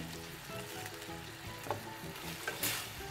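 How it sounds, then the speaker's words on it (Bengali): Egg chilli with about two tablespoons of sauce being stirred in a frying pan: a steady close sizzle with scraping stirs and a few sharp clinks of the utensil against the pan. "সস দিয়ে আবার একটু নেড়ে দিতে হবে।"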